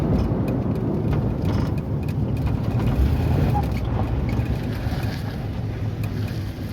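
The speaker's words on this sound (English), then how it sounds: "One test drive in a Camaro." A Chevrolet Camaro with brake and steering issues drives on the road, heard as a steady low rumble of road and wind noise from inside the car, loud and continuous.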